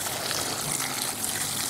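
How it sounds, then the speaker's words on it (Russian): Water pours into a bucket of chopped celandine with diluted liquid soap and hot pepper infusion, a dense, hissing splash that runs steadily and loudly for the whole short stretch with no talking. "Теперь залью водой"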